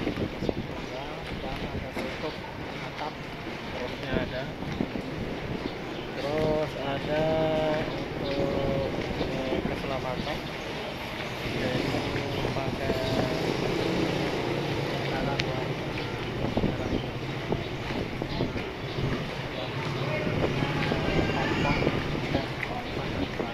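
Single gasoline engine of a Malay pompong ferry boat running steadily on the crossing between Penyengat and Bintan islands, a continuous loud drone mixed with wind buffeting, with voices talking over it.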